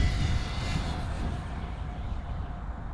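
Traxxas X-Maxx RC truck driven below full throttle on loose ground, its electric motor giving a loud, steady broadband whine and rumble that runs throughout and eases slightly toward the end, with no talking.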